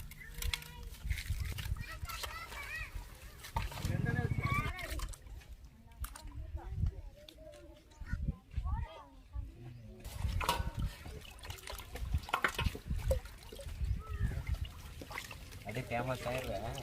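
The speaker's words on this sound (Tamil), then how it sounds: "ஓகே உப்பு போட்டு வாஷ் பண்ணிக்கலாம்ல." Fish being washed with salt and water outdoors in a village, with trickling, sloshing water and handling noises mixed under steady nearby conversation.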